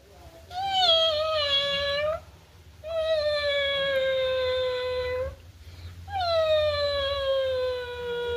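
A child imitates a cat, giving three long, drawn-out, whiny meows in close succession, loud and near, each falling slightly in pitch, with brief pauses between.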